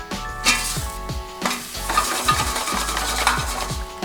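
Seasoned green beans tumble into a hot air fryer basket in a series of rattling, clattering thumps and scrapes over a light sizzle, close and fairly loud.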